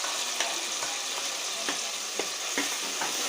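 Capsicum frying with tomato puree in hot oil, a steady bright sizzle close up with regular soft scrapes of stirring every half second or so.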